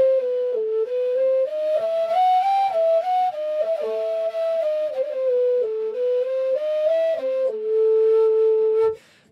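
A breathy wooden caval flute plays the second half of the B part of Hora Balako, a Balkan folk dance tune. The continuous solo melody steps up and down, then settles on a long held low note before stopping abruptly.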